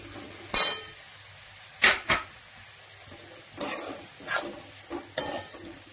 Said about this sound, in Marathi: ते ढवळून घ्यायचं